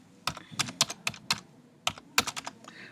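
Close keystrokes on a computer keyboard: about a dozen crisp clicks in two short bursts with a brief pause between, quiet and clear with no talk.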